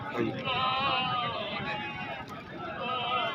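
Goats bleat at a busy goat market in Hasilpur, wavering cries rising over a steady crowd babble, with people talking nearby throughout.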